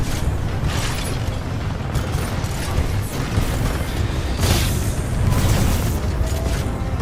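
Stalker robots blowing up in Titanfall 2 amid continuous loud combat noise, with dull booms and mechanical clanking layered over a dense, steady rumble.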